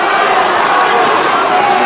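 A boxing crowd at the David Tua vs Monte Barrett fight rises to its feet, a loud, dense, continuous roar of cheering voices filling the arena with no gaps.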